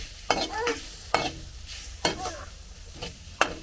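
Tomatoes soften with masala in a hot pan while cooking a goat brain fry, a soft sizzle running throughout, broken by four sharp scraping stirs of a spoon at even intervals.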